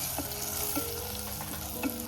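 Kokum and masala sizzle as they cook in a clay pot, a steady close bubbling hiss with a few soft stirring knocks, no voices.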